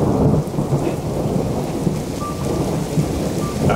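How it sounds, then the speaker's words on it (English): Thunder rumbles low and continuous beneath steady rain in winter in the Troodos Mountains, Cyprus, with the storm filling the whole stretch and no talk. "That is thunder."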